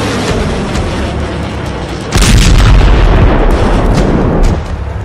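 Iranian ballistic missiles strike Israeli military bases: a continuous deep rumbling roar swells into a louder, heavier blast of explosive booming midway, then eases back toward a steady distant rumble.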